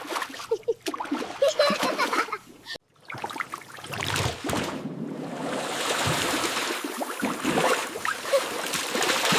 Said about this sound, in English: Don't you start splashing now.